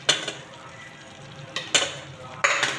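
Jaggery goes into a pan for sukhdi and is stirred, with a few sharp scraping clinks of the spoon over a quiet sizzle.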